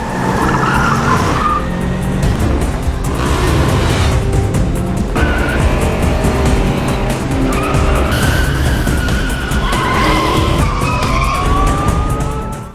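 A car speeds off in a film scene, tires squealing loudly with a rising engine roar that carries through the whole stretch alone, with no voices.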